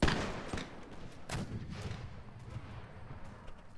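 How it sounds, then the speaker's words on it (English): A heavy cannon boom in the video game Mount&Blade opens loudly, followed by scattered distant shots and rumbling battle noise. "There goes one of our cannon shots."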